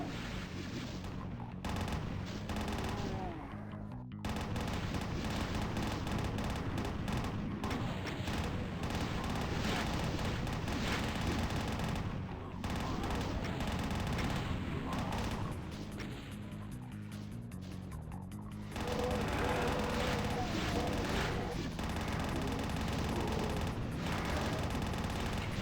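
Rapid, heavy weapon fire from the DOOM video game empties all the ammo at once, a dense, loud barrage of blasts and crashes running almost continuously with a few brief pauses.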